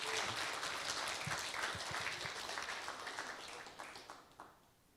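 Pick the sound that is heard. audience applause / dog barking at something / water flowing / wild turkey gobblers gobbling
audience applause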